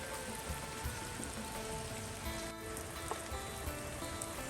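Steady rain falls on a surface during an all-day downpour, a dense continuous patter of drops, close and even, with no voices.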